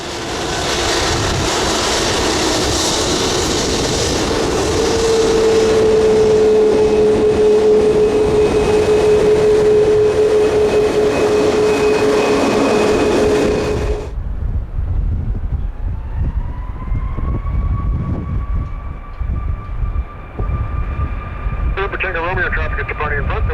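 A loud airliner jet engine roar with a steady whine during a test flight at Calgary International Airport fills the first half, then cuts to a quieter distant engine drone with rising tones.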